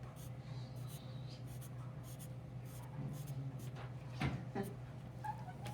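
Soft scratchy pen strokes sketch overlapping pine needles on paper, quiet and intermittent over a low background hum, with a few faint taps between strokes.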